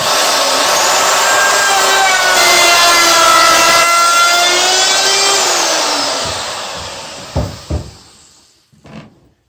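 A router cuts the top profile of a wooden stair railing, a loud, close, steady grinding whine for about six seconds that then winds down, followed by a few short knocks and handling sounds.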